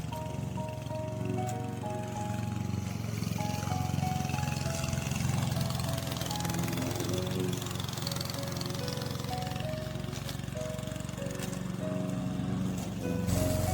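A Vigorun Tech remote control lawn mower with a 1500 watt dynamo runs steadily, giving a continuous motor drone with a mechanical whine that holds at an even, fairly close level for the whole stretch.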